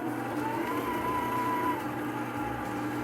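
Stand mixer with a paddle attachment creaming butter for pecan ball cookies, a steady, continuous motor whir with a faint tonal whine, close by and unbroken.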